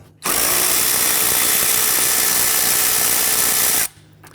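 A power tool loosens and removes a 10mm bolt from the top of a 2011-2015 Kia Sorento headlamp assembly, running in one loud, steady whir for about three and a half seconds before stopping abruptly.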